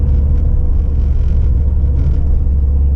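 A steady, loud car engine with an Invidia bellmouth downpipe drones with a deep rumble and throaty low exhaust note, continuous with no speech.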